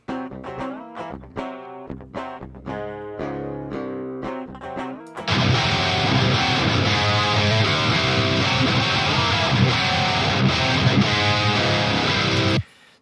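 Electric guitar through Aurora DSP Mammoth and Rhino amp plugins, first a clean direct-input riff of plucked notes, then a loud, thick, distorted rhythm tone that holds steady to the end.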